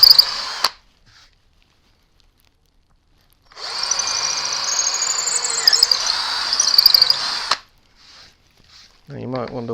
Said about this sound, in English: Now you might wonder why I just drilled into my workbench.